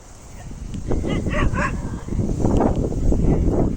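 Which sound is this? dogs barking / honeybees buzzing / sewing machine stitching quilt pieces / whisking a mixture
dogs barking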